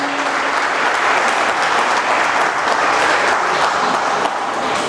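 A church congregation claps together in a dense, continuous round of applause that holds steady from start to finish.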